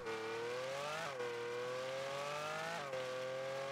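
Lamborghini Countach LPI 800-4 engine sound in the Rocket League video game, a loud, continuous synthetic engine drone that climbs steadily in pitch, with two brief shifts where the tone drops and rises again.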